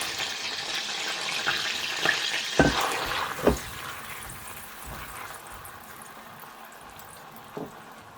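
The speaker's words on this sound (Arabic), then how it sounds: "نجيب حبه بصل كبيره سكرفشتها نحطها تتقلى" Chopped onion fries in butter and oil in a pan, a broad steady sizzle with a few sharp clatters and bumps early on that fade into a continuous hiss, close and with no voices.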